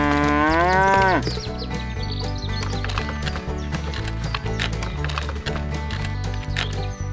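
Cows in a new, roomier barn give a long, loud moo at the start, followed by steady rhythmic clattering and knocking noises near the animals with no talking.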